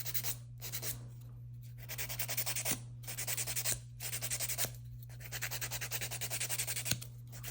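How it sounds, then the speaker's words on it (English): Close, repeated rasping strokes of a file on a fingernail during a manicure, arriving in quick rhythmic bursts separated by short pauses, over a steady low electrical hum, with no talking. "But I do love to file the nail."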